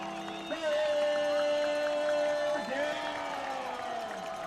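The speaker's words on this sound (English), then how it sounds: "Crowd getting into it now for ALA." Spectators at a varsity high school football game at ALA Queen Creek roar and cheer in a broad, sustained swell, with a tonal whistle or horn line running through it and a stadium announcer's voice over the crowd.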